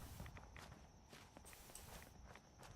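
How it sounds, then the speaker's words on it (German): Heavy stomping footsteps in the video game Fallout 4: Far Harbor, a faint, steady run of thuds under a constant background hiss, with no talking. "Ich glaube, ich habe was Stampfen gehört."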